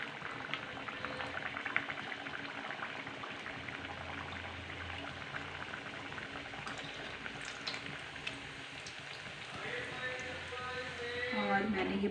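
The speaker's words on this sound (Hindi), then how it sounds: "और हमने डाल दिया है इसमें पूड़ी, देखो डाल दिया है हमने और अब ये धीरे धीरे तल जाएगी।" Puri deep-fries in hot oil with a continuous close bubbling hiss that holds steady and swells louder toward the end.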